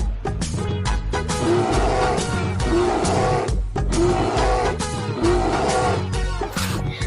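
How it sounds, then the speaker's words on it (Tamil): Repeated deep, growling roars from a wild animal, loud and close, rising and falling in a steady rhythm over a rumbling background. "அது ஏதாவது காட்டு மிருகத்தோட சத்தமா இருக்கும்பா"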